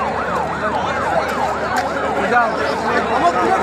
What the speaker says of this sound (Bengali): আরে অ্যাম্বুলেন্স